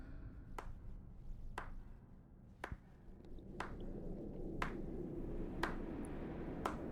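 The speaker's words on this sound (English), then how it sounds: "Someone's clapping." Slow, evenly spaced single hand claps sound in a fantasy video game, about one a second, sharp and fairly close over a low rumbling background hum.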